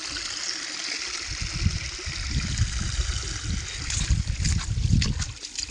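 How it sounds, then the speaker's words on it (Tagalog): Water flows steadily through a rice paddy during harvest season, a continuous streaming trickle with low burbling, heard close and fairly loud with no talk over it. "Tubig pa rin, oh."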